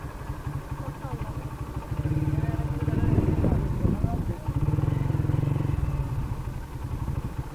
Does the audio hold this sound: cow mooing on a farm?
no